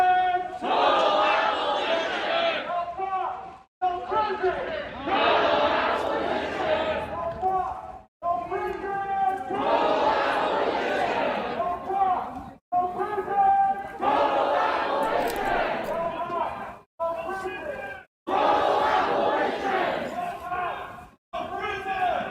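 A protest crowd marches and chants in loud, repeated bursts of massed voices, each phrase separated by a brief pause, close and continuous.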